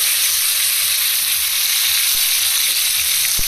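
Onion, tomato and garlic frying together in hot oil give a loud, steady, continuous sizzle with fine crackle throughout and no voices.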